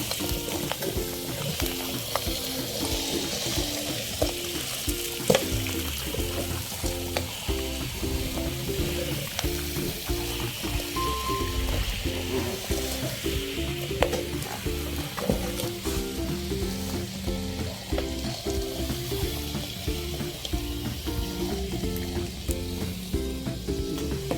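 Stuffed egg omelette frying in a pan, a constant dense sizzle and crackle with a rhythmic scraping and stirring pattern running through it, close and continuous, with no talking.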